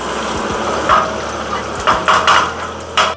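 A spoon stirs salt into browning onions in a cooking pan, making a handful of loud metallic scrapes and knocks against the pan over a steady background hiss, with some brief low voice sounds.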